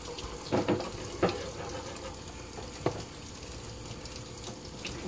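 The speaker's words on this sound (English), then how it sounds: "Like that running water, that actually gets in there and pulls some of that blood out." Tap water runs steadily over black drum fish fillets being rinsed, a constant wash punctuated by a few louder splashes and knocks as the fillets are handled.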